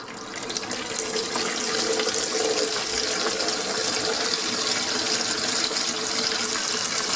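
Hot water tap running steadily into a bowl, a loud continuous rushing splash that starts almost at once and keeps on without a break, with no voices.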